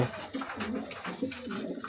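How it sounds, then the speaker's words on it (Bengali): Pigeons of an active standing breed coo repeatedly in low, throaty bursts, fairly close, forming a steady rhythmic murmur with no talk over them. "খাড়ানগুলো খুব সুন্দর অ্যাক্টিভ পায়রা, দেখতেই পাচ্ছ।"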